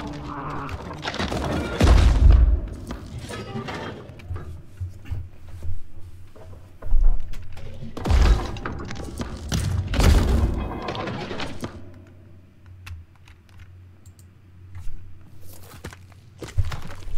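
Gunshots and explosions in the horror video game Scorn, several heavy booms and thuds in loud bursts separated by quieter stretches of rumble.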